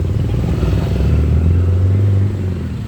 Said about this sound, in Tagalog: Nakasakay po kami sa e-bike.